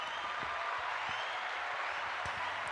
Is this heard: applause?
yes